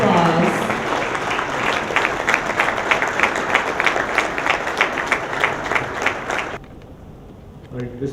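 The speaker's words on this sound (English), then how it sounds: "please give our excellencies the biggest round of applause" Loud, sustained applause from an audience honoring the excellencies at a business summit in Islamabad, dense steady clapping for about six and a half seconds before dropping away to a quieter room.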